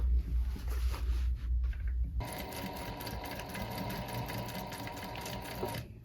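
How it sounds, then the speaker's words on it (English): A sewing machine stitching a rolltop rucksack, running steadily and close up with a continuous buzzing whir after a brief pause and some handling noise at the start, no talking. "And then I'm just sewing right up to here, and I'm going to back stitch here."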